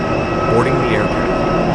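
Jet engines of an Air India Express aircraft drone steadily while passengers board through an aerobridge, a constant loud roar with a faint rising and falling whine over it.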